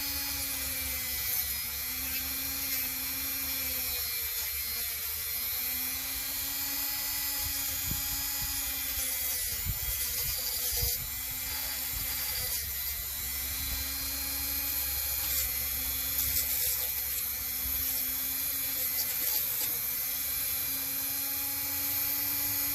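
A Dremel rotary tool scrubs corrosion off an old truck's horn relay with a continuous high, buzzing whine that wavers slightly as it presses against the metal, running nonstop and close up without talk.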